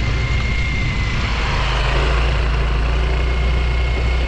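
A 2023 Yamaha Mio i 125 Standard Edition scooter engine runs during a test drive, making a loud, steady, continuous drone with a constant low rumble and no talking.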